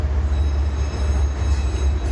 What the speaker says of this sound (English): They're actually building this train as I walk past it back a ways.